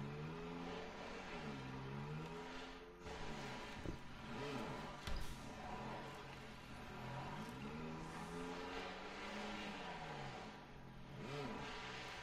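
Engine of a vehicle driven through the sci-fi shooter Borderlands 3, a steady mid-pitched hum that revs up and down in repeated swells across the whole stretch, close and continuous with no talk over it.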